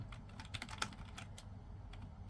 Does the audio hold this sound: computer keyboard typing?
yes